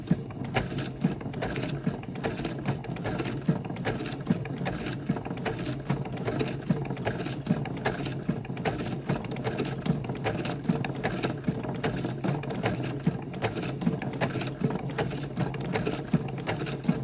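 A sewing machine stitches circles at a slow, steady pace, its needle clattering in an even rhythm throughout, close and continuous with no talking.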